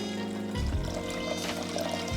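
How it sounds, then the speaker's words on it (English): Sugar and water pouring into a saucepan to make syrup, a short run of clinking and trickling that thickens into a steady pour about halfway through, close and alone. "To a saucepan, you're adding in 2 cups of sugar, 2 cups of water,"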